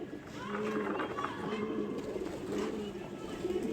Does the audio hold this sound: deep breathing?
no